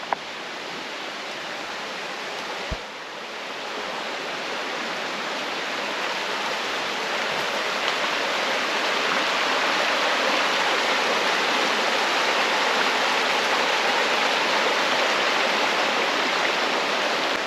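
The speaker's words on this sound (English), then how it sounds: "You can't beat having a river next to you anyway." A river runs beside a motorhome campsite in the Brecon Beacons, giving a steady close rushing flow that swells slightly louder after the first few seconds and then holds constant.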